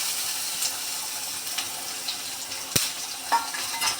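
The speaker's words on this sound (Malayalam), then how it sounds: "കടുകിട്ട് എന്നിട്ട് ഉള്ളിയും വറ്റൽമുളകും അരിച്ച് വെച്ചിരിക്കുന്നത് ഇട്ട്" Mustard seeds, onion and dried chilies frying in hot oil for a tempering, giving a steady close sizzling hiss with a few sharp pops and crackles, no voices.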